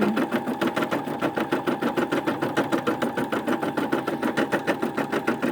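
A Brother SE600 embroidery machine quilting, its needle hammering in a fast, steady, even rhythm close by, with a continuous motor whir beneath and no voices.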